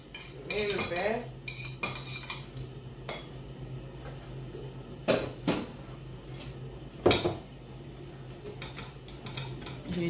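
A spoon turns galette dough with butter in a bowl, bringing scattered clinks and knocks against the bowl over a quiet background, with a few louder taps.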